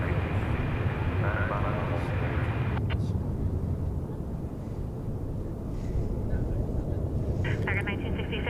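CRJ regional jet on approach to land at DFW airport, a loud continuous jet engine roar with heavy wind rumble, steady and close throughout.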